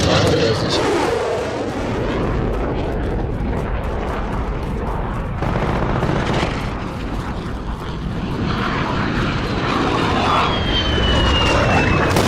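A friendly VTOL aircraft roars overhead in a video game, a loud, continuous broadband engine rumble with distant blasts mixed in and brief voices underneath.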